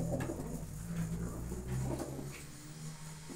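Domestic pigeons, including fawn-coloured birds, cooing in a home loft: low, soft, repeated coos close by over a faint background hum, with no talking.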